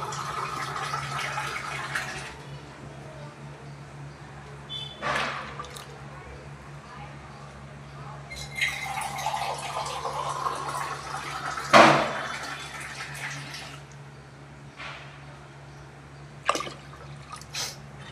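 A pot of spicy goat-head curry simmers with wet bubbling and occasional drips and splashes, broken by a few louder kitchen clatters over a low steady background.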